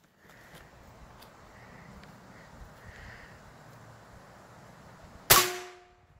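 A single sharp shot from a Benjamin Bulldog .357 air rifle cracks loudly after several seconds of quiet outdoor wind noise, then rings and decays briefly.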